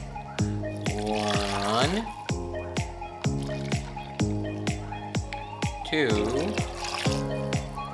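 Water is poured into a cooking pot for a batch of rice, making a steady splashing stream in short bursts beneath a person's close, continuous talk.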